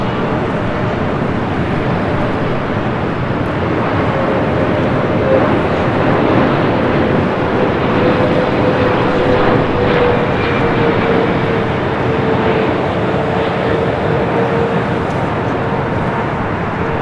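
Delta Airbus A350-900 jet arriving at Los Angeles airport from Tokyo Haneda, a steady, loud broadband engine roar with a faint whine, continuous throughout without talk.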